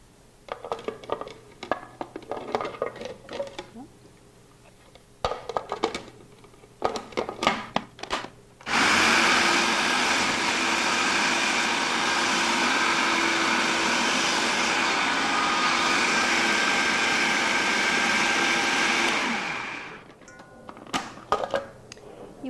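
A food processor whirs loudly and continuously for about eleven seconds as it purees cauliflower with cream, mustard and parsley into a whip. Short clatters and handling knocks come before and after the run, with no talk.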